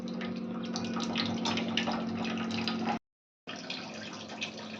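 Water poured into a chilli masala paste for a vegetable curry, a steady close splashing stream that cuts off briefly and then resumes, with no talk.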